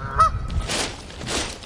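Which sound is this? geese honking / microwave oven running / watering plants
geese honking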